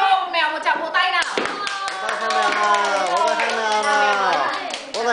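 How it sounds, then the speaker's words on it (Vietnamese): Children's play audience claps by hand, a burst of rapid clapping that carries on beneath overlapping, excited talking voices from kids and adults close by. "Các bạn cho mèo một tràng vỗ tay nào."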